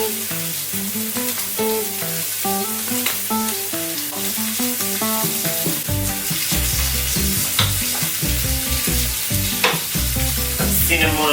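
White bacon frying in a pan, a steady sizzle with stirring and scraping, heard alone under a layer of music with no talk.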